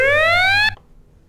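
The alert sound from the Scratch sound library plays as a loud, bright electronic tone that rises slightly in pitch and cuts off sharply after under a second, followed by near silence.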